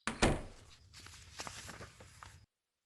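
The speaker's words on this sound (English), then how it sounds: "The door shut." A house door shuts in an animation with one heavy, close thud, followed by a few softer bumps and shuffling knocks before the sound cuts to silence.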